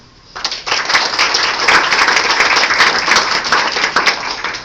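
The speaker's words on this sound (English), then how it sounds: "Let's hear a great big Fishing for Facts welcome for Mrs. Jane Wise and Miss Trixie Dixon." An audience breaks into loud, sustained applause, many hands clapping together in a dense, steady burst lasting several seconds.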